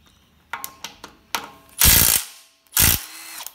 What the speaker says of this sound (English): I just used my trusty Milwaukee 3/8 drive rattle gun.